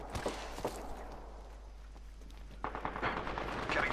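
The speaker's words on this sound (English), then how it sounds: "Getting shot at." Gunfire in the shooter game Apex Legends during a fight, with bursts of rapid shots near the start and a denser volley toward the end, fairly faint under a low background rumble.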